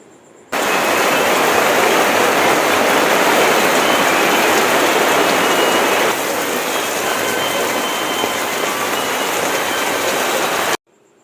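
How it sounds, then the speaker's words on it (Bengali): Heavy downpour drumming on a tarpaulin, a dense loud hiss that starts abruptly, holds steady for about ten seconds, eases slightly midway, then cuts off. "এই যে নেমে আসলো বৃষ্টি"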